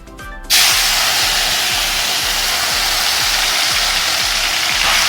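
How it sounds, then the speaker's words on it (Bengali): A sudden loud sizzle erupts and holds steady as kachki fish hit hot oil in a kadai, a continuous close crackling hiss. "এই কড়াতে তেল গরম হয়েছে দিয়ে দিতে এবার ভেজে নেব"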